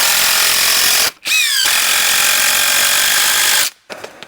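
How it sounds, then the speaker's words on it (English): A power drill drives screws into a flood-damaged handrail in two long, loud, close whirring runs, separated by a brief pause with a quick rising pitch sweep, then ends in a short drop to quiet. "Run a few screws into it."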